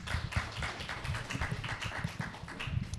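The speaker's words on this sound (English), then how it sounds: "Yeah, we can clap for that" Scattered clapping from a small audience at a panel talk on queer perspectives in game making, soft and brief, a few hands tapping irregularly for about three seconds.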